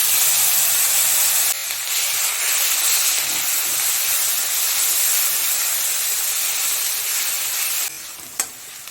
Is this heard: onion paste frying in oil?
yes